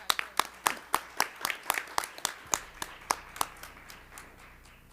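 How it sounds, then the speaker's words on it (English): An audience at a school district governing board meeting claps in a brief round of applause, a dozen or so distinct claps fading out, fairly faint in a large room. "Can we have one more round of applause for our"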